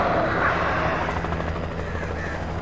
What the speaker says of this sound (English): The light on that helicopter ain't doing much to those crows